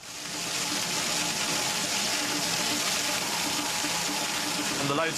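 Water from a fire truck pours into a metal bucket in a steady, loud gushing rush that holds evenly for several seconds, close by, with a faint voice underneath.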